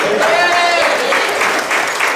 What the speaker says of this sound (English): I want you to clap if you agree with me.